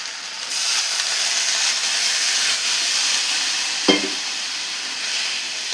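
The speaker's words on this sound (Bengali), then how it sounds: "মশলা আমার কষা হয়ে গেছে এবার পরিমাণ মতো জল দিয়ে দেবো" Water hits hot, cooked-down masala for potol dolma, releasing a loud, steady hissing sizzle that carries on evenly, with one brief knock from the pan near the end.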